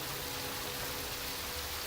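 Heavy rain pours in a dramatic Squid Game scene, a dense, constant hiss of falling water that fills the whole moment without breaks or voices.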